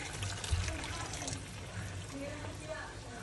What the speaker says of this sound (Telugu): ఇప్పుడు చేపల పులుసులో చింతపండు రసం వేస్తున్నాను.